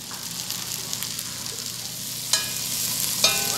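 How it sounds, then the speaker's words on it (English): Meatballs brown in a Dutch oven with a steady close sizzle and crackle of frying. A couple of sharp clinks sound as they are placed or turned. "I'm just going to shape them into a nice ball and place them in our Dutch oven for browning"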